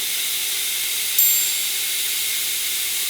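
Steady broadband hiss of food sizzling on a Ninja Sizzle smokeless electric grill, constant and fairly loud throughout with a slight swell in the middle and no talking.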